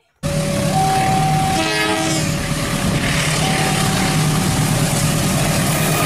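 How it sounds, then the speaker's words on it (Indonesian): A toy train runs steadily with a continuous mechanical rattle, and a tonal electronic train horn sounds loudly and close at the start and again later, among a collection of toy vehicles. "Kereta api."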